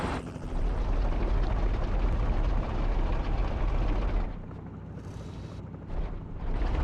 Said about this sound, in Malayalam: ഒരു ഹെലികോപ്റ്റർ പോകുന്നുണ്ട്.